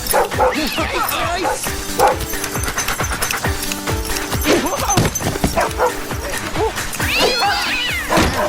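Dogs bark and yip in short bursts, mixed with whimpers and a few cat-like meows, over busy clattering background noise.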